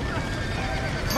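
A horse whinnies amid busy, noisy action in the game Red Dead Redemption, with a faint clatter of hooves underneath.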